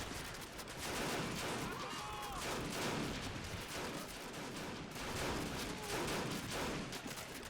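Continuous machine gun fire and dense gunfire in the World War II strategy game Men of War: Assault Squad, set during the Japanese invasion of Tulagi, roaring steadily and loudly throughout with no pauses.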